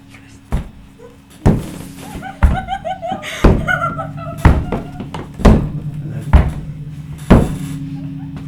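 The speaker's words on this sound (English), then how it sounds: "Heard the knock on the door." Repeated heavy knocks on a door performed as a live sound effect during a horror storytelling show, a series of loud thuds spaced about a second apart, with faint voices in the background.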